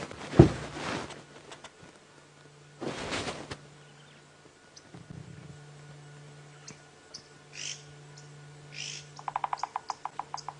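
Short oxpecker calls ring out at intervals in a quiet African bush setting, ending in a rapid burst of sharp, repeated chirps.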